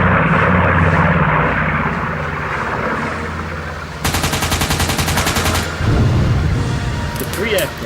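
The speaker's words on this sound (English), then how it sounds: "with their aircrew standing on parade as the bombing and strafing runs began" WW2 bomber aircraft on a strafing run, a rapid burst of machine gun fire ripping out mid-clip over a loud, steady aircraft engine drone with dramatic music underneath.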